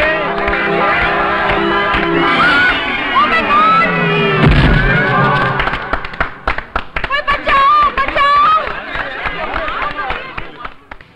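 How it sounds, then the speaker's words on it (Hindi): An audience claps in an Indian comedy film scene. Voices come first, then a loud crowd breaks into rapid, dense applause that carries on to the end. "आप लोग ताली बजाओ, मैं डाई मार रहा हूँ।"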